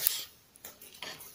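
A kitchen knife chops raw garlic into large pieces, three or four soft, crisp cuts spaced about half a second apart, quiet and close, with no voices.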